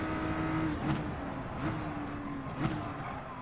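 A race car in Gran Turismo Sport downshifting gradually through the gears, with a steady engine drone dropping in pitch in a few stepped blips and no talk.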